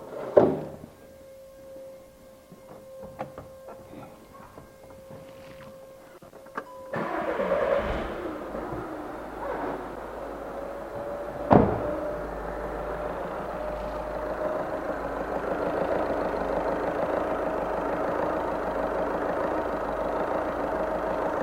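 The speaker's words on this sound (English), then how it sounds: "And we'll start the van up." A VW Caddy 1.6 TDI van with low fuel pressure cranks after a whining electric fuel pump, then catches and settles into a steady, clattering diesel idle close by.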